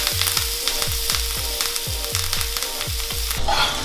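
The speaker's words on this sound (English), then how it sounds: "Now we're just gonna go ahead and baste this with the butter." Lamb sears in a pan with butter and a couple of sprigs of thyme over low heat, giving a steady close sizzle broken by regular rhythmic scrapes and taps as the meat is basted.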